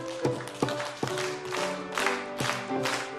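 A church congregation claps in steady rhythm while singing a praise hymn, the claps landing as sharp repeated beats under the sustained voices.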